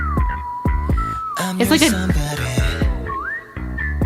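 A melodic whistle tune carries a K-pop dance break over a thumping bass beat, with a voice briefly speaking over the music.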